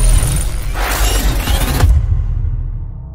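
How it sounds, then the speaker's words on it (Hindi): Sharp crackling shatter of ice breaking under a Western Star truck in SnowRunner, a loud burst of splintering for about two seconds over a low engine rumble, then cutting off. "पूरा आइस टूट गया पीछे"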